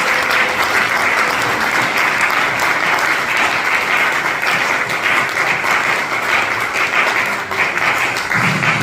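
A congregation applauds during an Easter church service, loud sustained clapping filling the room at an even level, with a faint murmur of crowd beneath.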